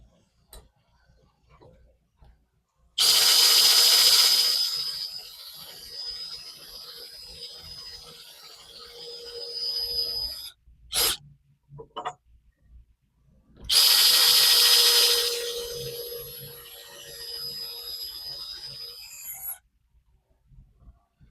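A power drill bores two holes into the bottom piece of a sagging fence gate in two long whining bursts of several seconds each, close and loud, separated by a short pause with a few brief clicks.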